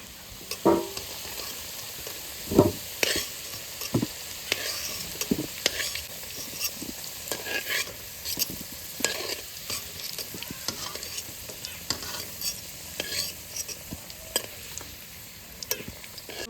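Potatoes frying in hot oil give a steady close sizzle, with scattered spatter pops and occasional stirring scrapes throughout, no voices.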